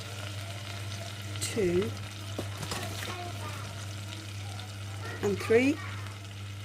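Flour being stirred into melted butter in a pan for a simple cheese sauce: a steady low sizzle runs throughout, with scraping stir strokes, a couple of short spoken words and some clinks.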